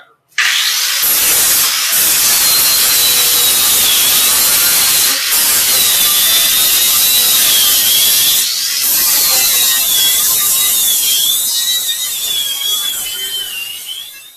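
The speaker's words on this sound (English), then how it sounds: "I'm just changing over to a flat disc on a plastic backer" An angle grinder fitted with a flat disc on a plastic backer grinds metal for rat rod brackets, a loud continuous hiss with a wavering whine and a few brief dips, close up.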